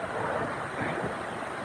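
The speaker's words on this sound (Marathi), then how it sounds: "धबधब्याचं पाणी" Water pouring down SawatSada waterfall near Chiplun, a steady broadband rushing hiss heard briefly, moderately faint, with no voices.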